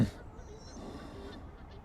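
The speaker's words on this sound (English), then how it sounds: "It's kicking off at Fairhaven Lake with the ducks and the geese." Ducks and geese at Fairhaven Lake, a brief distant honk breaking through soft outdoor ambience, faint and short.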